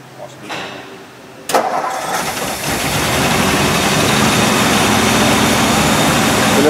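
A 1958 Ford Ranch Wagon's old engine fitted with a new carburetor cranks briefly, then catches with a sudden burst and settles into a loud, steady running rumble close by.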